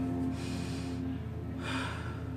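Slow breathing in and out, with a soft airy inhale followed by a longer exhale over a steady low background hum, close and quiet with no talking.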